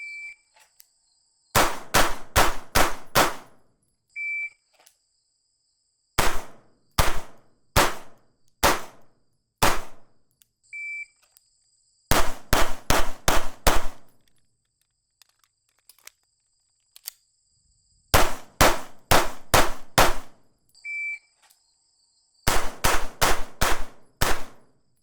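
Rapid strings of pistol shots from a Staccato CS fired at 10 yards in an IDPA 5x5 classifier, loud sharp cracks in tight bursts of about four to five, separated by pauses and faint electronic beeps.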